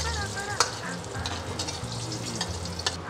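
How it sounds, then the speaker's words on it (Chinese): Salted fish frying over low heat in a wok, a close, continuous sizzle with occasional sharp clinks and scrapes of the spatula, and no speech. "咸鱼放下去不要马上去铲它哦，给它炸了它稍微干身的时候我们才去捞它"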